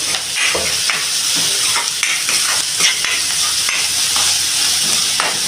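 Finely chopped onion fries on a high flame for veg momos, a loud continuous sizzle and hiss punctuated by stirring scrapes of a spoon in the pan, close up with no talking.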